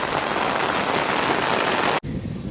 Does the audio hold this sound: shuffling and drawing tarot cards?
no